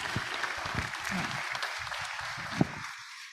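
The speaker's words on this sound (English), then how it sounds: "Let's give these guys another round of applause." Applause from a crowd at a hybrid Rotary Club meeting fills the room with steady clapping for a few seconds before fading out.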